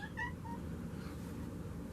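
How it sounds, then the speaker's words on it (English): A cat meows in a room, a couple of brief, fairly faint calls near the start over a steady low background hum. "It sounds like you got a cat in here."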